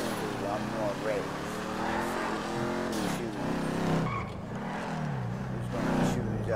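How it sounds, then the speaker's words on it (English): In a GTA drag race, a Cherokee with a big motor revs hard, its loud engine tone rising and falling and tires squealing, while someone talks over the engine noise throughout. "I'm gonna race that Cherokee right there with that big motor."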